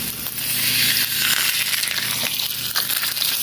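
Salmon fillets sizzle loudly in hot cooking oil in a pan, a close, steady hiss and crackle with sharper spits of popping oil, no talk.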